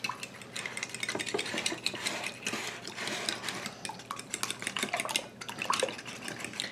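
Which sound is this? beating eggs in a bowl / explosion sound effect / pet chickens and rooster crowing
beating eggs in a bowl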